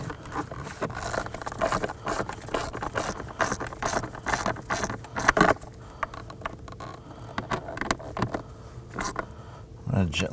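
Screws being driven into a blower motor assembly on a 2001-2009 Volvo S60, a close, rapid ratcheting click that runs in bursts, with someone talking over it.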